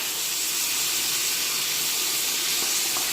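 Onion, ginger-garlic paste and tomato sauté in a pan for a vegetable biryani, giving a steady close hiss and sizzle that runs without a break.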